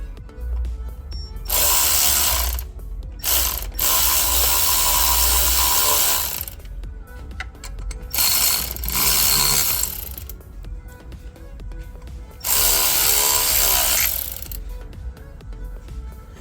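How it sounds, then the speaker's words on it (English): A ratchet drives an 8mm inverted Torx bolt into the thermostat housing of a 2012 Mercedes E350 W212 3.5L, close and loud, in bursts of rapid clicking separated by short pauses. "I'm just gonna use it to install the bolt as much as I can"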